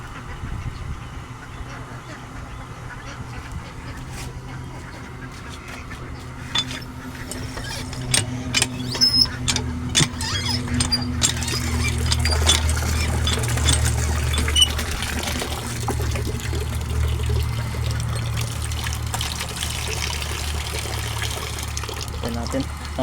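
A motor water pump hums low and steady at a pig farm while water trickles and pours nearby, with people talking intermittently over the running flow.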